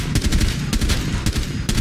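Gunshots in the tactical shooter Rainbow Six Siege crack out in a quick irregular string of about six sharp reports across a couple of seconds, steady and fairly loud over a rumbling game background.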